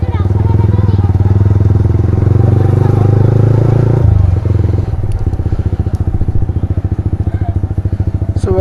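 A motorcycle being ridden through Kolkata streets, its engine loud and close with a steady drone that shifts into a pulsing, chugging rhythm as it slows, with a voice talking over it.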